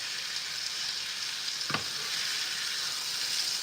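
Seasoned food, dusted with all-purpose seasoning, onion powder, garlic powder and paprika, searing in a hot pan for rasta pasta, a steady close sizzle throughout with a brief clatter of stirring near the middle.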